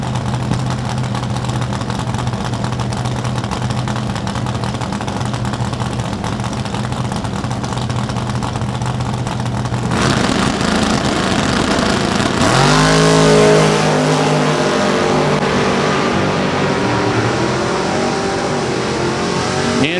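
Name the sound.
drag race cars staging and launching, including a 66 Nova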